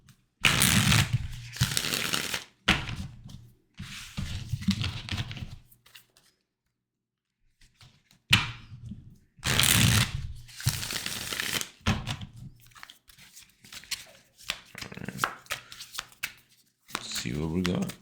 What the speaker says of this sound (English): do a nice little shuffle real quick.